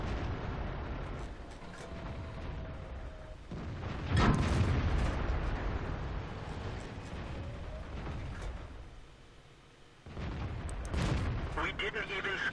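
Booming tank cannon fire and explosions in a World of Tanks battle, a Centurion Mk 1 firing HEAT rounds, with a heavy blast near the middle and another toward the end over continuous rumbling battle noise.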